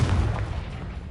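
A Confringo fire spell bursting in Hogwarts Legacy, a short loud low boom that rumbles and slowly fades, close and without any voice over it.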